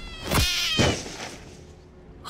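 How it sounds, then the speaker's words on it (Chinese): A black cat lets out two loud, harmonic wailing cries in quick succession, used as a sound effect in a horror audiobook, with the second cry fading into quiet. "黑猫哀嚎了一声"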